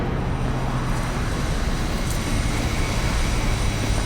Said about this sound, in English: The sound of the fighter jet kicked in a little bit earlier to take us to this flashback sequence